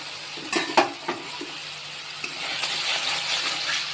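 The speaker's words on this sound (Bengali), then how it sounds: "মশলা কষানো হচ্ছে" Spices being sautéed in oil for a rohu fish curry, with a few sharp utensil clinks and scrapes early on, then a steady, fairly loud sizzle building through the rest.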